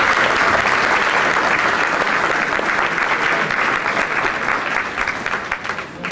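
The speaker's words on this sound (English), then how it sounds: "Let's give her a round of applause." A school event audience applauds the principal at a program welcome, loud sustained clapping from a large crowd that holds steady for several seconds before fading slightly at the end.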